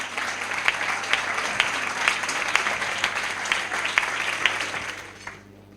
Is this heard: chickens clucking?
no